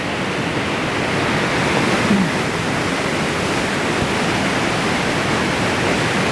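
Muddy flash-flood water surges down a channel beside Highway 34 in the Colorado Rocky Mountains near Glen Haven, a loud, constant broadband roar without any break or voices.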